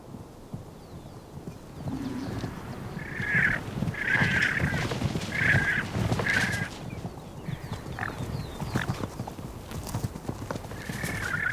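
Squabbling guanacos give a series of shrill, whinny-like calls in quick bursts over a low background of scuffling and movement, moderately faint and unaccompanied by talk.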